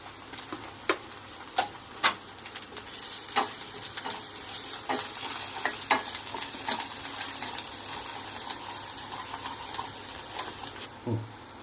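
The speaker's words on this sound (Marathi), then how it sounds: "आता याला तेल सुटेपर्यंत आपण परतून घेतलेलं आहे।" Misal masala with onion-garlic spice, turmeric and coriander-cumin powder sautés in oil in a pan, hissing and sizzling steadily while a spoon stirs it, giving a few sharp scrapes early on; no one speaks.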